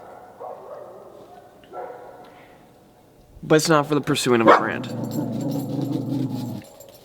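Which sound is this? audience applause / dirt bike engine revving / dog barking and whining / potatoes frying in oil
dog barking and whining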